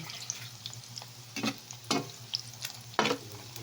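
Squid balls fry in oil that was used for eggs, giving a low continuous sizzle close by, broken by three or four distinct stirring clacks and scrapes.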